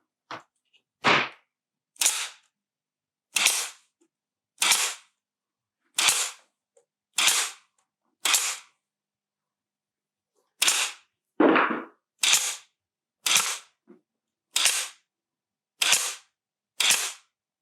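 Nail gun firing into the sides of an RTA utility cabinet: sharp, loud single pops, about fourteen in all, spaced roughly a second apart with a pause midway, no talking.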